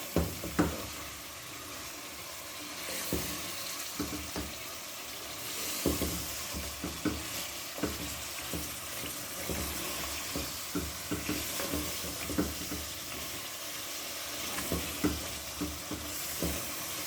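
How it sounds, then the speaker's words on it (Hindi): Steady sizzling of spices frying in oil in a pan for chicken soup, with scraping stirs and occasional clinks of a utensil; moderate and close, with no talking. "अब इसको आपने अच्छी तरह से इसको फ्राई कर लेना ऑयल के साथ"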